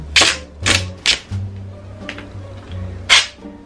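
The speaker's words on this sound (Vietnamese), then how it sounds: "Dán băng keo rồi ghi tên lên nha mọi người." Adhesive tape is pulled and stuck onto a suitcase in a series of sharp ripping bursts, about five in all at uneven intervals, near and fairly loud, over a faint low background hum.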